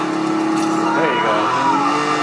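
A car engine in the PS4 Spider-Man game hums at a steady pitch, then briefly rises and falls as it revs, with a player's voice over it.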